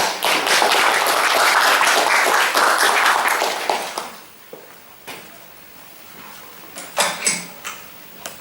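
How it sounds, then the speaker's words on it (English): Applause from an audience welcoming a speaker to an online discussion session, dense clapping for about four seconds, then tapering off into scattered claps and taps. "Please give an applause."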